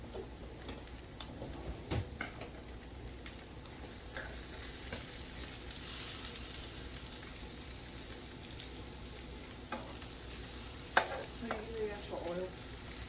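Onions frying in a pan while being stirred: a continuous soft sizzle with scraping and clicking as they are moved about, close and moderately quiet, with a sharper knock near the end.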